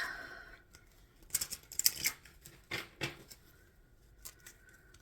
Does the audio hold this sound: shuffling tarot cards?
yes